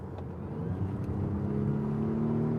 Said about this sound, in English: now this is fully engaged in the gas engine